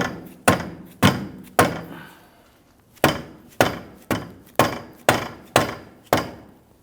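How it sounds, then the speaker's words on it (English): Rubber mallet striking the rear suspension knuckle of a 2005-2010 Chrysler 300 in a series of close, hard thuds, four fairly quick blows, a pause, then seven more in steady rhythm, no talk. "See if we can use a rubber mallet."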